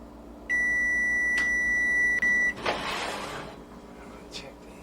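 An electronic kitchen timer set while baking taralli beeps with a sustained high tone for about two seconds, then cuts off into a burst of rustling kitchen noise, fairly close and clear.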